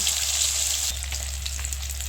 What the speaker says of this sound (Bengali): আর একটু লাল লাল করে ভেজে নেব